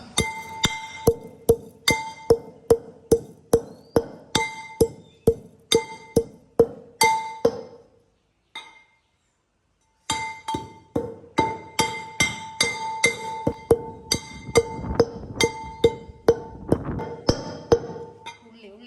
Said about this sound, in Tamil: ஒரு கரண்டி மிளகு சின்ன சீரகம் இதால் உண்டரை கரண்டி மூண்டையும் சேர்த்து இடிப்பான்